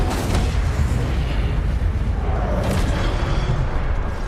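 An Incendio fire spell cast in Hogwarts Legacy lets out a loud, booming burst of flame that roars steadily for a few seconds.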